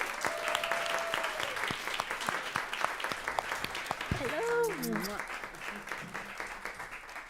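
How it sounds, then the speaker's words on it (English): An audience claps for a cabaret and drag performer invited up as a guest, a steady burst of hands with sharp individual claps, while voices briefly speak over it midway before the applause thins out. "Let's give a round of applause for Daphne."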